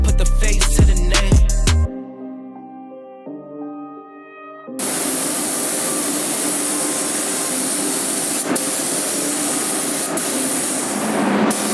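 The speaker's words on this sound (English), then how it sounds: "we're gonna do one more coat of clear" A spray gun lays clear coat on a car wagon's custom paint job, a steady, close, loud hiss running unbroken for about seven seconds after a short stretch of music at the start.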